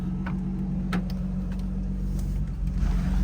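A single-turbo Infiniti G35 coupe idles with a deep, steady engine hum heard from close by, with a few light clicks and knocks as it gets ready to pull away.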